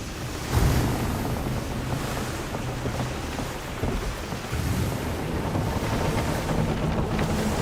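Ocean waves and rushing wind while sailing a ship on a river in Skull and Bones, a loud, continuous wash of surf with gusting noise and no talk.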